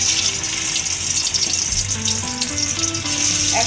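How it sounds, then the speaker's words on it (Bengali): Gurjali fish frying in hot mustard oil in a kadai, a steady close sizzle with crackling spatter throughout, no talking. "এবার আমি তেল গরম করেছি, কড়াইয়ে সরষের তেল নিয়েছি। এবার আমি মাছগুলোকে ভাজব।"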